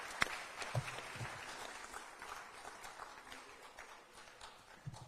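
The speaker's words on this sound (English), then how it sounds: "Please give them a round of applause." An audience at a San Diego town hall panel applauds in a dense, steady wash of clapping that stays fairly even and moderately loud for several seconds, with no speech over it.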